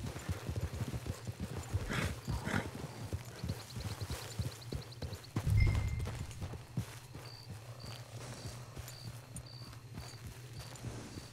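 A horse's hooves clip-clop at a walking pace in a video game, a steady close rhythm of hoofbeats with a brief snort and some faint ambient game sounds.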